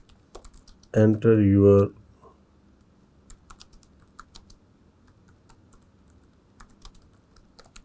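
Keystrokes on a computer keyboard as printf code is entered for a computer science lesson on defining functions: a short burst of speech, then faint, scattered clicks spread over several seconds.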